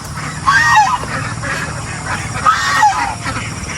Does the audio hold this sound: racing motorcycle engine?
no